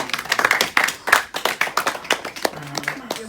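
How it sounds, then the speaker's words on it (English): A small audience claps for a student after her book report, a loose burst of individual hand claps that thins into scattered, distinct claps, fairly close, with a faint voice near the end. "Give her a round of applause."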